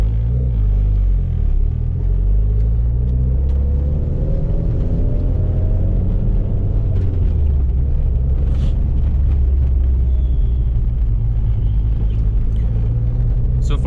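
A Mitsubishi Evo X GSR with new Torque Solution motor mounts drives along, its engine a steady low rumble with rising and falling revs through gear changes, heard from inside the car.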